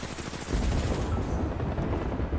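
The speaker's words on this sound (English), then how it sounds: "Gunshots behind us." Rapid automatic gunfire from the battle royale video game Apex Legends, a loud dense burst of overlapping shots that starts after a brief opening and keeps going steadily to the end, with no speech.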